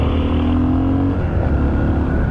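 A Yamaha TT600 Belgarda motorcycle accelerates hard past the listener, its engine note loud, close and steady, with a rising whine, wind roar and no speech.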